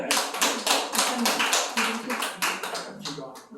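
Audience clapping at a Korean church gathering after presentations, just before closing prayer: a dense run of sharp, close hand claps that keeps a steady pace and thins slightly toward the end.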